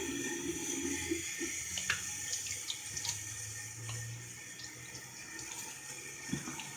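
Tap water runs steadily from a sink faucet while a face is wetted, a soft continuous stream with small splashes and drips, fairly quiet and heard alone without talking.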